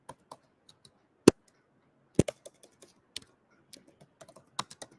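Keys clatter on a computer keyboard as an SQL query is written, with short irregular bursts of clicks and a couple of sharper, louder key strikes, close and otherwise quiet.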